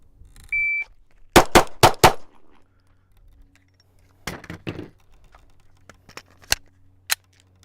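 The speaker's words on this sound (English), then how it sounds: "When you hear the buzzer, that's when I'm going to go." A short electronic shot-timer beep, then a quick string of four sharp handgun shots, a pause, and several more scattered shots, loud and close at a shooting range.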